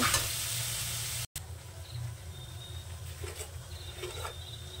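Spice paste for a potato curry with green peas, including cashew and poppy seed paste, sautéing in a kadai over a low flame, giving a soft steady sizzle with light stirring scrapes and a brief dropout.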